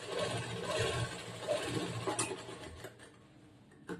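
A sewing machine stitches a collar-neck blouse with a faint, uneven mechanical whirr that fades toward the end.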